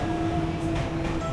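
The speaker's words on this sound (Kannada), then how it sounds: "ಬಂತು ನೋಡಿ ನಮ್ಮ ಟ್ರೈನ್" A train pulls into a station in Japan, giving a continuous loud rumble with a steady hum and faint rhythmic rattling.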